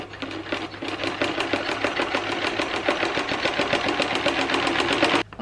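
A sewing machine runs a steady test stitch with bobbin thread, its rapid needle clatter continuous and close for several seconds before stopping abruptly near the end.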